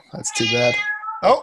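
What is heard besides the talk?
cat meowing for attention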